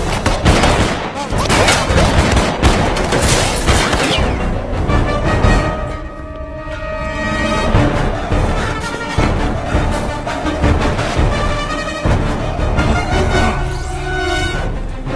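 Gunfire in an action movie scene, dense rapid volleys and machine-gun bursts over a loud score, sustained throughout with a brief lull midway, with voices shouting.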